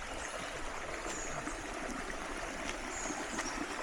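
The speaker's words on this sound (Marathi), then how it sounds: "ही इथे नदी आहे. नदीला इतकं पाणी नाही आहे." A shallow river with little water in Dapoli, Konkan, flows steadily with a constant rushing, trickling wash and no other sounds standing out.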